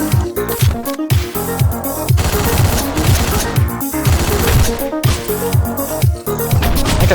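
Rapid gunfire bursts from the top-down action game Hotline Miami 2, loud and constant over a driving electronic soundtrack, with crashes mixed in and no talking.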